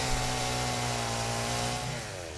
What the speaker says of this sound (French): Je crois que j'avais même pas besoin de la tronçonneuse en plus.